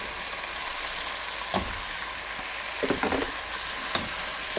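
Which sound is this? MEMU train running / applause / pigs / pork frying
pork frying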